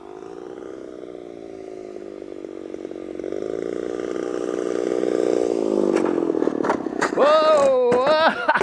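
A 33cc gas engine on a Gilmore Red Lion Racer model plane drones steadily nearby, its pitch shifting as the throttle eases back, with sharp clattering bursts near the end.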